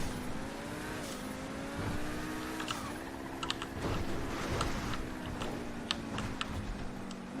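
A car in the video game GTA 5 drives and accelerates, its engine a steady hum that rises and dips in pitch, joined by scattered sharp keyboard clicks, with no talk.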